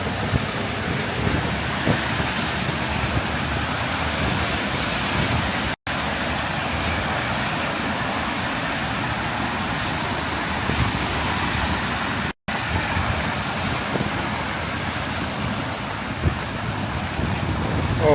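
Fierce wind buffets the microphone on Yonge Street in Willowdale, Toronto, a loud, continuous rushing roar with traffic-like rumble beneath it and two brief dropouts.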